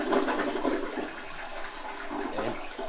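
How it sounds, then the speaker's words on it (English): A household toilet flushes, emptying its tank in a continuous turbulent gush of water, close and fairly loud, with no talk. "And then flush the toilet to get some of the water out of the tank."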